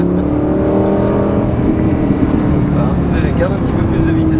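A Lamborghini Gallardo holds a steady, loud engine drone on a racetrack with the throttle held down. Someone talks over it.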